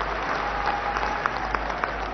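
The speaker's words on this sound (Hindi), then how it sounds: "जोरदार तालियां बजाकर बता दीजिए, इस स्टेडियम से बाहर तक आवाज जानी चाहिए।" A large crowd in a stadium at a political party plenary applauds loudly, a dense, continuous wash of clapping that holds steady throughout without a break.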